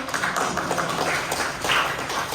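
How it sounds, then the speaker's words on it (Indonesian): Classroom applause from a group of students, a short burst of dense, even clapping heard close by with no talking. "Berikan aplaus buat kita semua."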